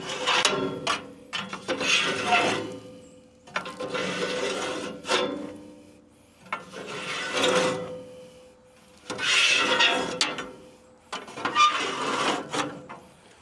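A cleaning tool scraping down inside a Central Boiler Classic Edge 760 outdoor wood boiler: five or six loud, rough metallic rasping strokes, each lasting about a second or two, separated by short pauses, close up and with no talking.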